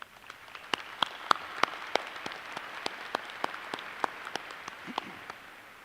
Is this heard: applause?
yes